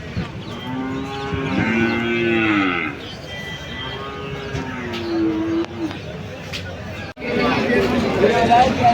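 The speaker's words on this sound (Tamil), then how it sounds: "இதெல்லாம் பார்த்தீங்கன்னா மொத்தம் ஜல்லிக்கட்டு மாடு." Jallikattu bulls and cattle at a busy cow market low in repeated long moos, near and loud, over a steady background of crowd chatter and occasional bird calls.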